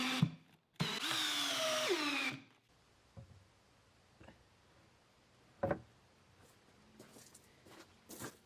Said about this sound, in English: if I added some screws from underneath the rails